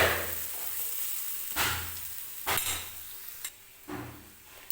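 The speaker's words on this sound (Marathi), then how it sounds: "हे बघा, व्यवस्थित तेलामध्ये हिरवी मिरची अशी परतून घ्यायची आहे आपल्याला." Green chillies fry in oil while a spoon scrapes the pan, a steady sizzle punctuated by several distinct scraping and knocking strokes spaced about a second apart, close up.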